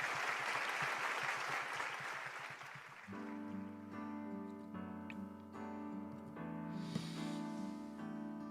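Quiet applause from an audience welcoming couples at a youth blessing ceremony, about three seconds of dense clapping that gives way to sustained tonal music.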